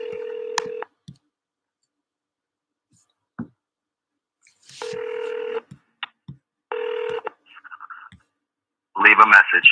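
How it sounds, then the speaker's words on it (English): A phone call rings out unanswered, with a repeating electronic ring tone in two separate bursts, some clicks and a short bit of talk in between, then an automated voicemail voice at the end. "No answer. Rang twice. Went to voicemail."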